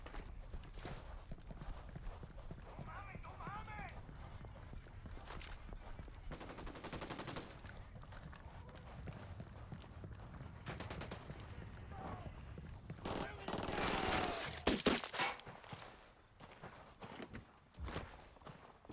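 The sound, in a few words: gunfire in the video game Ghost Recon Wildlands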